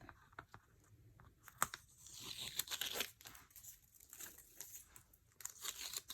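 Strips of washi tape peel off paper in a bible journaling page, producing close, faint tearing and crinkling sounds in short bursts with small ticks between.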